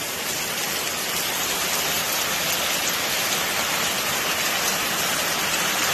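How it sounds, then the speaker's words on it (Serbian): Heavy cloudburst rain pours down during a storm in a Serbian village, a dense, loud, unbroken roar of downpour with no pauses. "Evo, provala oblaka. Gledaj kako pada kiša."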